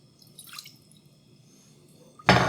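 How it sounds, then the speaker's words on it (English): Water is poured into a saucepan holding butter, starting with a few soft drips and ending in a sudden loud sizzling splash near the close. "I'm going to add some water."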